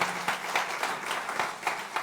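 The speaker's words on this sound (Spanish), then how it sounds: "denle el aplauso" A church congregation applauds for a man being honored on his birthday, sparse, rhythmic clapping with individual claps standing out, moderately close and without talk.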